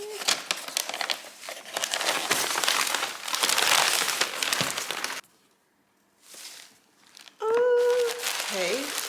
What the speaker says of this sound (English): Carefully remove the tape here.